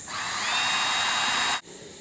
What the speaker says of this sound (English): Make sure you're sturdy, and slowly start drilling into it.